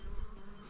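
Honey bees swarm around an open backyard hive in a steady, close buzzing hum, a brief moment with no voices.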